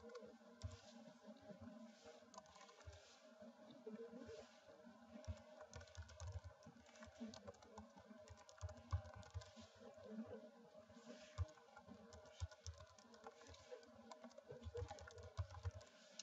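Someone types a name on a computer keyboard, producing quiet, fairly rapid clicking keystrokes in irregular bursts over a faint background hum, with no talking.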